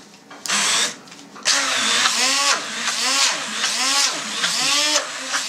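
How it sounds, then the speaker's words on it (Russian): A kitchen blender whirs loudly, grinding cottage cheese into a smooth paste for homemade processed cheese, running in several bursts with the motor pitch rising and dipping, and brief pauses between pulses. "Измельчил я его блендером"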